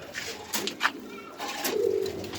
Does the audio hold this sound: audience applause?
no